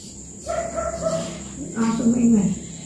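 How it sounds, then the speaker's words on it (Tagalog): A dog barks and whimpers nearby in a home kitchen during birthday food preparation, a couple of short yelping calls mixed with a person talking over it. "Yung aso yung naririnig eh."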